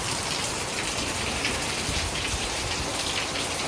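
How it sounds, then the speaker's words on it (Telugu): Heavy rain falling steadily, a dense, unbroken hiss of drops striking surfaces, loud and close throughout with no voices. "మొత్తం అయితే ఈరోజు కూడా ఫుల్ వర్షం అయితే పడుతుంది."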